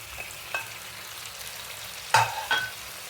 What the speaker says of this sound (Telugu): మనం ఫ్రై చేసుకున్న ఫిష్ ముక్కలు ఉన్నాయి కదా, ఇవన్నీ దీంట్లో వేసేసి